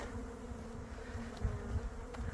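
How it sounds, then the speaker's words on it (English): Bees buzz as they fly around, a steady low hum with individual insects droning nearby, fairly quiet and continuous. "the sun's out and the bees are flying again"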